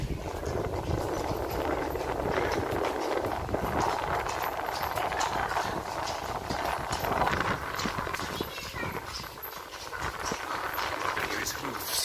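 Horse hooves clip-clop steadily along a street in Bruges, a continuous trotting rhythm close by, with people talking now and then over the hoofbeats.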